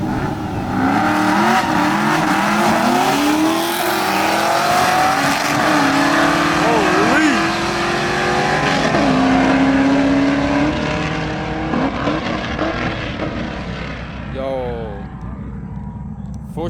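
Two Chevrolet Camaros, one black and one red, street racing in Mexico, engines roaring loudly and steadily as they accelerate side by side, with shifting pitch and a brief tire squeal near the end, under excited talk.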